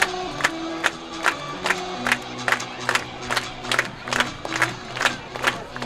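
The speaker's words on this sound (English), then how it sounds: "Crowd is alive and well again." A high school football crowd roars and chants in rhythmic bursts in the stands, loud and sustained, with sharp regular claps or stomps beating steadily under the cheering.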